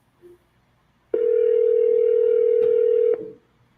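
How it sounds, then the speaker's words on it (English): A telephone dial tone rings out during a live cold-calling session, a clean steady hum lasting about two seconds, loud and alone after a brief click, then cutting off. "Can you hear the dial tone?"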